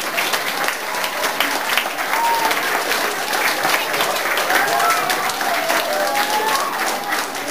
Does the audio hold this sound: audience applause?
yes